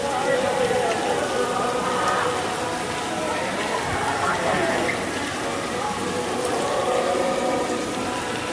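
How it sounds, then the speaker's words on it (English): Steady rain falls at Adventure Island water park in Tampa, Florida, a constant broadband hiss of drops on surfaces with faint crowd chatter mixed in throughout. "I gotta wait till it stops raining because I don't want to get my phone wet."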